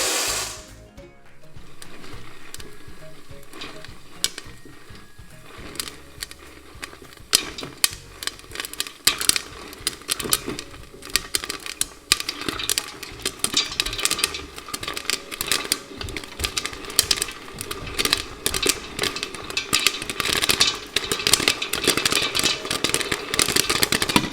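Popcorn kernels in a lidded pan on a stovetop over medium heat, starting as scattered pops and building into a dense, rapid crackle of overlapping pops, close and fairly loud.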